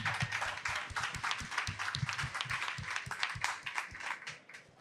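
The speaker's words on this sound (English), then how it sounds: "Let's give some applause for Vijay." Applause for a speaker at a panel discussion on building agents and MCP, a steady patter of claps from a modest audience lasting several seconds, moderately loud and close.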